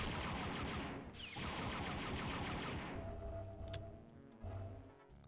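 Star Wars Dark Forces weapon fire against turrets, a dense, continuous crackling barrage of shots with a sliding tone, then several separate sharp bursts near the end.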